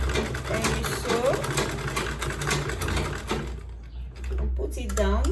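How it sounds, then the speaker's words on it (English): A sewing machine back stitches and then sews an Ankara and leather bowler bag, a steady close mechanical whirr that stops briefly near the end and then resumes, with speech over it. "You back stitch first, then you sew"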